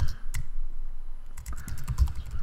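Close, rapid keystrokes on a computer keyboard as a sub headline is entered on a web page, one clicking run, a short pause, then another dense burst, with no voices.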